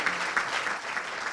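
Audience at a policy congress panel applauding, a steady patter of many hands at moderate distance, continuous and fairly soft throughout.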